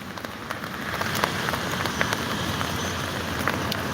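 Steady rain patters on surfaces outdoors on a cloudy day, a continuous close hiss with scattered sharper drop ticks and no talking.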